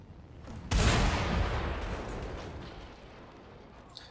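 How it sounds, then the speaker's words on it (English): A sudden explosion in the Carmageddon video game, a loud blast that bursts in and then rumbles and fades slowly over several seconds. "Fine, I can take an explosion to the face."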